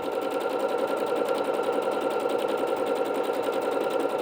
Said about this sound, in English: I'm watching now to make sure that my guideline, my needle is always landing in that as it finishes out the stitch.